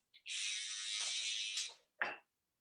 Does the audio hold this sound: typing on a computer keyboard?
no